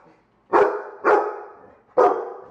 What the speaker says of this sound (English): I wish I could understand dogs so I know what Wilson was talking about.